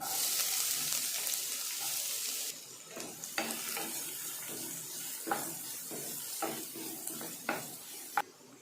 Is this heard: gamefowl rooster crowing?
no